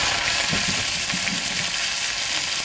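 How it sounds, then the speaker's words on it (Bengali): Mixed vegetables (carrot, onion, cabbage) hit hot oil in a wok (kadai), giving a steady, close, continuous sizzle with faint stirring scrapes and no talking, cooked outdoors on an icy mountain at minus three degrees. "তেল গরম হয়ে গেছে সব সবজিগুলো কড়াইতে দিয়ে দিলাম"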